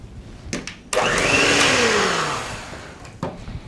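Electric hand mixer whirring through strawberry cake batter with butter in a bowl, a steady buzzing drone of about two seconds that winds down in pitch, with light clatter of the beaters before and after.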